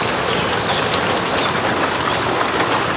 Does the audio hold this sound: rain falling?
yes